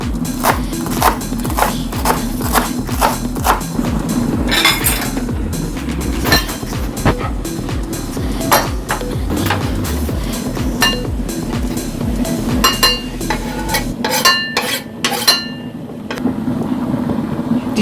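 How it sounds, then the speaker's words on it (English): Fresh cilantro chopped with a knife on a board: a quick run of sharp, irregular taps, loud and close, over a steady low background hum. "And we'll chop our cilantro."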